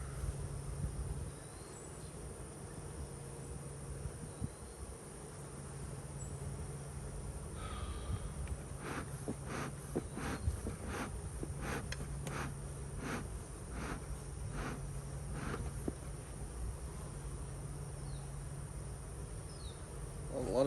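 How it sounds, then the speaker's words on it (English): Honeybees buzz in a steady, dense drone around the brood frames of professional nuc splits being checked for transfer to a ten-frame deep brood box, with a few sharper passes of individual bees close by. "Looks like a lot of bees."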